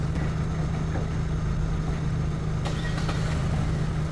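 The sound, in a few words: Opel/Chevrolet Cruze car engine idling after remote start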